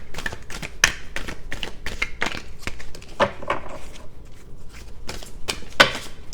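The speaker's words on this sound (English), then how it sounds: "More shuffles." Tarot cards are shuffled by hand in close, irregular bursts of crisp riffling and soft slapping taps, with short pauses between each handful.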